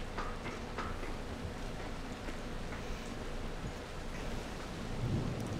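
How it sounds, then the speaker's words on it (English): Rain and thunder in the zombie video game Dying Light: steady, dense rainfall with a low, continuous thunder rumble underneath, loud and unbroken throughout with no talking. "It's raining. It's pouring."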